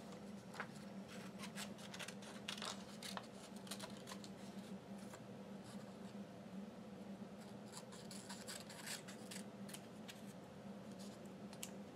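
Scissors cut a paper pig ear from a leftover strip of construction paper for a plastic bottle piggy bank, producing a run of quiet, irregular snips and paper rustles up close with no talking.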